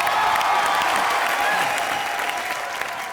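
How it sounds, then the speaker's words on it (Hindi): Studio audience on a Hindi TV comedy show breaks into loud, sustained applause for a guest, a dense wash of clapping that holds steady and tapers slightly toward the end. "प्रभु सर के लिए जोरदार तालियां हो जाए।"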